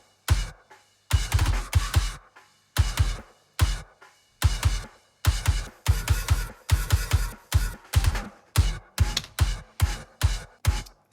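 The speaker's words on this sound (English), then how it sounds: "it's like a really roomy kick sound" A processed, roomy kick drum from a Mapex 22-inch kit with all kick mics summed, thumping in a steady rock pattern of single and doubled hits, each with a short boomy room decay, played alone.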